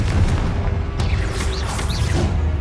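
Confringo spell from Hogwarts Legacy fired in combat: a close, loud burst and boom with mechanical clatter and a couple of whooshing, warbling tones trailing after, no speech.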